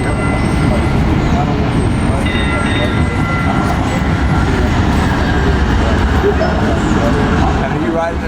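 A train on a mass transit line rumbles loudly and steadily throughout, a dense, continuous roar with faint high squeals near the start.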